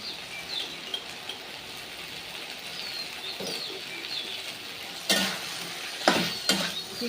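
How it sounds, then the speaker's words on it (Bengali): Chicken being stirred in a pan for chicken kosha, a soft background sizzle with occasional scraping stirs, louder utensil scrapes and clatters near the end, no speech. "আরেকবার নেড়ে নেবো মাংসটাকে। এইভাবে আমি মাংসটাকে কষতে থাকবো।"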